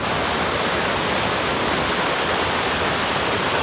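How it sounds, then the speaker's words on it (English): A waterfall roaring in a steady, dense wash of falling water, loud and close throughout with no other sounds. "there's a path that goes underneath the waterfall"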